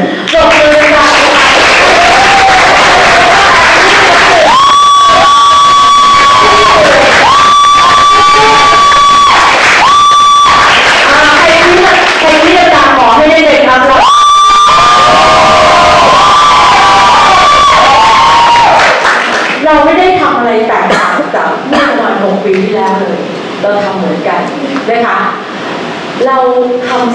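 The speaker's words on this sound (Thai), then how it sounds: "ขอเสียงปรบมือนะคะ" A large crowd at a resort event in Nakhon Nayok cheers, whoops and applauds loudly in long waves, with shouting voices, then settles into scattered clapping and chatter.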